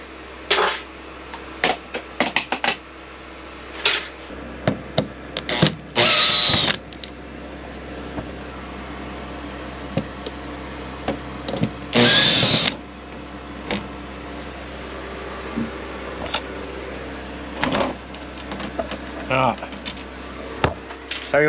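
A power drill removes screws from an off-road caravan's light cover in two short whirring bursts, joined by scattered clicks and knocks against a low background hum.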